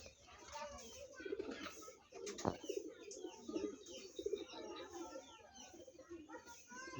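Racing pigeons at a loft in Bagerhat, Bangladesh, coo in a steady low murmur with scattered chirps and a faint background voice.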